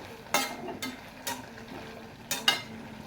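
A spoon stirs boiled amaranth greens with salt in a pan, giving a few soft, separate scraping strokes at uneven intervals over a quiet, low sizzle.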